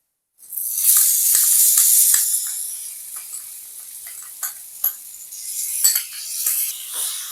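Spice paste for a Bengali bata fish curry hits a hot pan of fried potato and aubergine with a sharp burst of loud sizzling, then settles into a steady hiss with scattered pops and crackles as it cooks.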